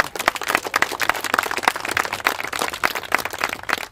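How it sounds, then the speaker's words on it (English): Audience applause at an awards ceremony for a middle school student, a steady wash of many hands clapping together for about four seconds, dense and fairly loud with no voices over it. "Round of applause."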